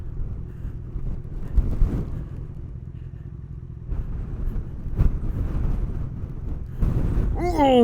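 Heavy wind roars across the microphone of a cyclist riding through a storm on an inland road, a steady low rumble with gusty surges and no talking.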